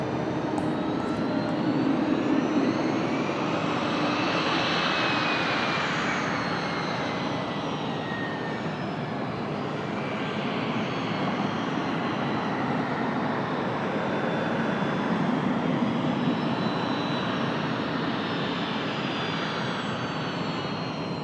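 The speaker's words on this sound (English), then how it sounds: "next arrival, United, operated by Mesa, another E175LR" A United Embraer E175LR regional jet operated by Mesa arrives at an airport, its engine roar a broad, steady rumble that holds loud and sustained throughout, with a faint whine shifting over it.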